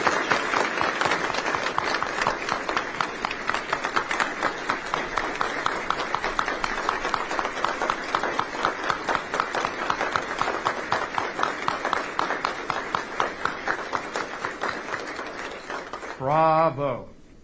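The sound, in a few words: audience applause at retirement ceremony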